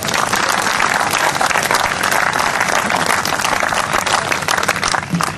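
An audience at a comedy and poetry show by Pratap Fauzdar claps loudly and continuously, a dense, close roar of many hands that holds steady throughout with no talking.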